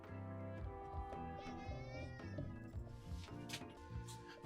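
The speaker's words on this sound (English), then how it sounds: "Bloody cat." A house cat named Mally meowing repeatedly and close by, its drawn-out, wavering cries rising over steady tonal background music.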